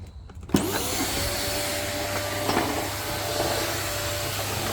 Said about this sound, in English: What I might do is quickly vacuum some of the crap